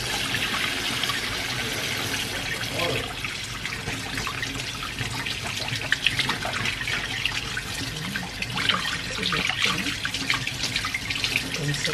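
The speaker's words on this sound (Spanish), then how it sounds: "¿Será que con agua fría o con agua caliente? Con agua de la fría" Cold water runs steadily from a household tap into a sink, a continuous close splashing hiss with small bursts of dribble throughout, with no voice over it.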